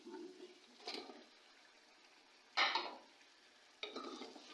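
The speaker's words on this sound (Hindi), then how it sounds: "अब मैं इसमें डालूंगी चिकन।" Chicken going into frying masala in a cooking pot, then a spoon stirring it: a few short, soft scraping and sizzling bursts separated by quiet gaps, close and fairly faint, with no talking.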